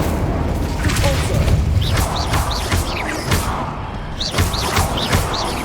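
Confringo and Incendio fire spells cast in the game Hogwarts Legacy, a string of sharp booming blasts and fiery whooshes with crackling impacts over a dense battle din.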